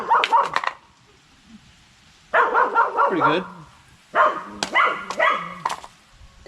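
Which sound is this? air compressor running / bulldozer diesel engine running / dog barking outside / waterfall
dog barking outside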